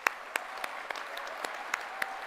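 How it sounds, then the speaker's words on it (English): Applause from a graduation ceremony audience at the University of Stirling: a soft, distant wash of scattered clapping with a few sharper individual claps standing out, fairly quiet throughout. "I think we should give everybody a round of applause."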